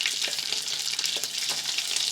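A heaped spoon of butter with a little oil sizzles and crackles in a pot as the base for a meatball sauce, a steady, close frying hiss with faint stirring and no talk.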